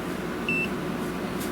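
A single short electronic multimeter continuity beep sounds briefly over a steady low hum, clear and close, while testing wires in a 1994 Tandy 425SX computer.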